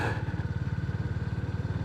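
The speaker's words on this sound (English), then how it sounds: "how it picks up the sound of the exhaust on the GB350 single-cylinder thumper with the long-stroke air-cooled engine" A Honda GB350 with a long-stroke, air-cooled single-cylinder engine thumps steadily, its exhaust giving a close, even, rapid low pulse that stays constant throughout without talking.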